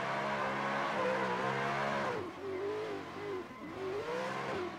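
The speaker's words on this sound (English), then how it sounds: "Albersick in the lead in the GT86. Sestava in the chase in the 400Z. Both drivers putting down" Two street-spec cars, a Toyota GT86 and a Nissan 400Z, launch and accelerate hard side by side at a stadium drift competition, engines revving loudly through rising and shifting pitches with no talk.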